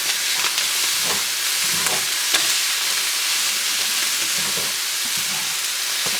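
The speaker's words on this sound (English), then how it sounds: "I started cooking my hamburger and onions on the stove, and I'm going to add my peppers." Lean 90-10 hamburger and onions frying in a pan on the stove, a steady loud sizzle with scraping stirs every second or so.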